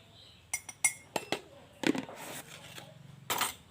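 A spoon clinks against a glass as brown sugar and non-dairy creamer are scooped in for iced cocoa, making several sharp, close clinks and small scraping taps in quiet surroundings.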